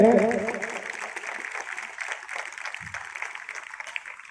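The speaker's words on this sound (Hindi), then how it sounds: "जोरदार ताली से स्वागत करें।" An audience at a Jawahar Navodaya Vidyalaya school event in Begusarai applauds, a crowd of clapping hands that starts strong after a brief voice and fades steadily over four seconds.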